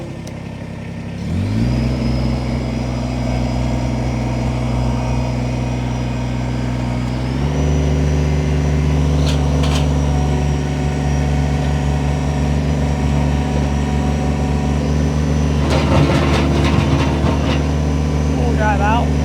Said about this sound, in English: We're going to go ahead, fire this tractor up.